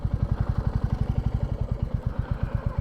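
Royal Enfield Classic 350 single-cylinder motorcycle being ridden, its steady low thumping exhaust beat pulsing rapidly and evenly, with wind noise over it and no talk.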